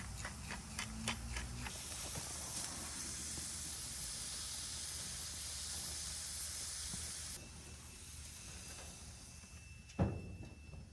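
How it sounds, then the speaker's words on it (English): Lemons and lamb kebabs cooking on a hot grill give off a faint, steady hiss and sizzle, with a few light ticks and one short clack near the end. "So we're gonna grill some lemons and use that to put on top when we're done. So we're gonna let this cook."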